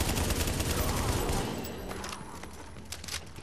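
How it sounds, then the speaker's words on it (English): Dense gunfire from the video game The Division, with a sustained loud fusillade of rapid shots for about a second and a half, then scattered sharper shots and thuds at a lower level. "Somebody's shooting the second floor."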